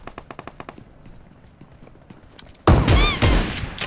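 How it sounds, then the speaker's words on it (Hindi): Gunfire in PUBG Mobile: a quick string of sharp shots early on, then softer scattered clicks, followed by a loud burst of noise near the end. "शॉट करें सचिन उसके पास।"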